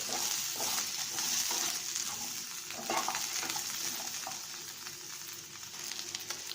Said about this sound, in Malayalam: കത്തിരിക്ക കൂടി ചേർത്ത് കൊടുക്കണം. ഇതും ചെറുതായിട്ടൊന്ന് വഴറ്റിയെടുക്കണം.